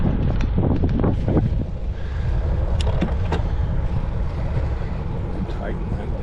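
Steady crosswind buffeting the microphone while riding a bike on a fall road ride, a continuous loud low rumble that runs through the whole stretch with brief gusty bursts and no clear talk.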